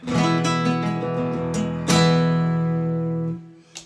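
Acoustic guitar picked up through a Fishman pickup, strummed chords ringing steadily, a sharp re-strike midway, then fading out with a brief pluck at the end.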